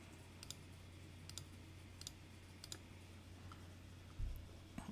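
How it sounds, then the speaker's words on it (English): Sharp computer mouse clicks come as several light, separate taps at uneven intervals, quiet and close, over a faint low hum in a quiet room. "so I'm just going to click the little X."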